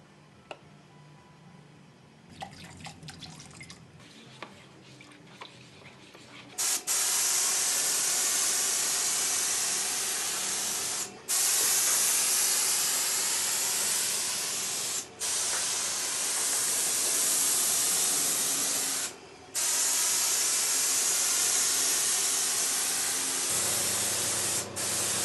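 Aerosol can of surface wash hissing onto a chopped, stripped truck bumper in bursts of long steady spray with brief pauses between, loud and close after some quiet handling noises at the start.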